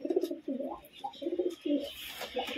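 A pair of high-flying pigeons, one male and one female, coo close by in a series of soft throaty bursts, with a light rustle near the end.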